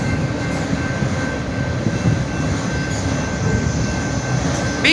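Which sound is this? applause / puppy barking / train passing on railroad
train passing on railroad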